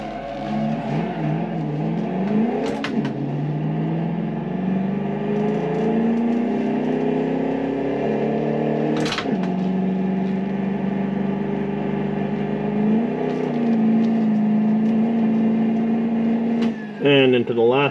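A 1934 Alfa Romeo P3 race car laps Donington Park, heard from onboard. Its engine drones loud and steady, with the pitch climbing and dropping through several gear changes.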